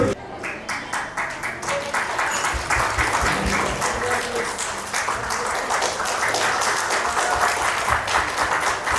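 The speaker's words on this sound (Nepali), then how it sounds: "हस्, ताली बजाइदिनुहोस्" Applause from a wedding crowd, a steady wash of many hands clapping that swells after the first second and holds loud and dense to the end, with voices mixed underneath.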